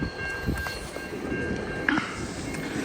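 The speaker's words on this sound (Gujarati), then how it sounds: "ખુશખબરી એ છે કે પેસેન્જર ટ્રેન છે" A small passenger train runs past a railway crossing in freezing weather, a continuous mid-level rumble with light rhythmic rattling and a short metallic squeal, no talking.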